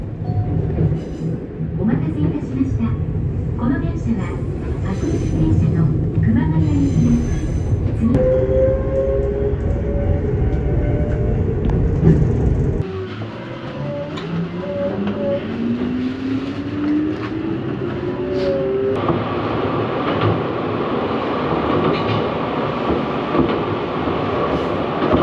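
Inside an electric commuter train bound for Kumagaya in Saitama Prefecture, a steady rolling rumble fills the cabin while the motor's whine rises in pitch as the train accelerates after a brief quieter stretch.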